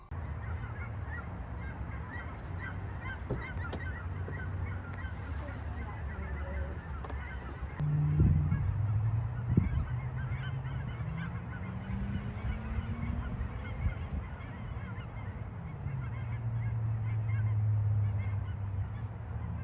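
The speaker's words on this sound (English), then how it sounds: "There's a bunch of birds flying over our head, so it's kind of crazy right now." Geese honking as a flock flies overhead outdoors, a steady chorus of calls that swells and fades across the whole stretch, with a low rumbling background and no talk.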